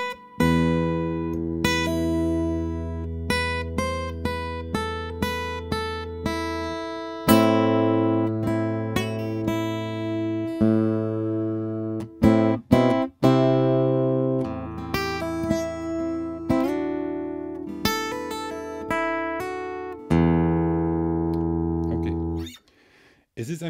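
Fingerstyle acoustic guitar plays the intro of a song, slow picked arpeggios over ringing open strings with a few pauses and position changes, close and clear with no talking.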